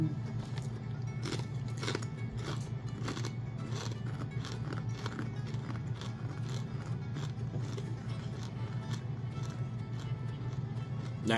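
Crunchy maple bacon crinkle-cut kettle-cooked chips being chewed: close, continuous crisp crunching and crackling bites for several seconds, with no talking.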